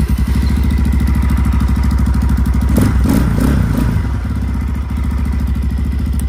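A dirt bike bought from Amazon idles steadily and loudly up close in 20-degree cold, its even rapid putter broken by a few clattering thumps midway.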